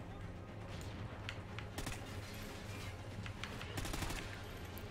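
Gunfire rings out in a multiplayer shooter video game, with scattered sharp shots and short bursts over a dense, steady game soundtrack, fairly faint overall and busiest near the middle and end.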